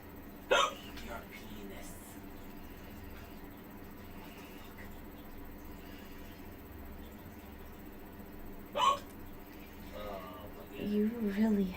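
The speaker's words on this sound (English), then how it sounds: "You really have the hiccups." Sharp, isolated hiccups from a person, one near the start and another around two-thirds through, with soft voices murmuring toward the end.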